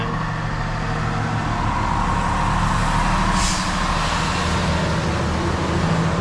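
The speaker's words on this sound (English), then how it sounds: "that's a typical Canadian trailer" A heavy truck hauls a typical Canadian multi-axle trailer carrying an 84,000 lb drainage plow, its engine a steady low rumble with road noise throughout and a brief hiss partway through.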